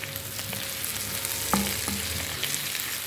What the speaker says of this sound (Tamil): இந்த உருளைக்கிழங்கு வந்து நல்லா பொரிய வரும். இதோட சேர்ந்து இந்த எண்ணெயில் பொரிஞ்சு வறண்டு வரணும்